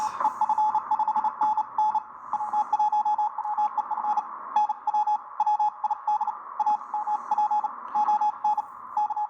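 Fast Morse code tones, about 30 words a minute, keyed in rapid dits and dahs over a hissy background on a Drake R4A receiver, steady and continuous throughout.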